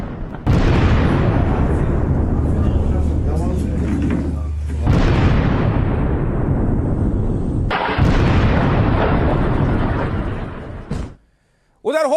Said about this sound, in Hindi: वही धमाके सुन रहे हैं आप। सुनिए एक बार गूंज।